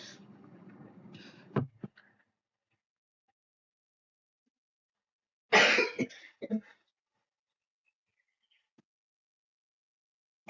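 Loud, close coughing from a person with a cold in two bursts: a rough throat-clearing cough early on, then a harsh cluster of coughs a few seconds later, with quiet gaps between.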